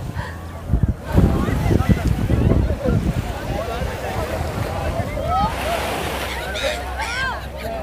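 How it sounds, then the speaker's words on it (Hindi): Loud rushing ocean waves and wind noise at JBR Beach, Dubai fill the scene, with people talking over it and a few high bird calls near the end. "पानी की आवाज़ बहुत तेज आ रही है।"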